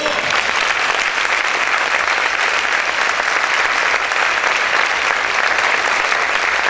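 A church congregation claps loudly in unison, a dense steady wash of applause that holds at full strength throughout without pause.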